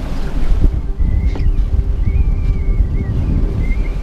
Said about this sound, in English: It's 25 knots of wind now.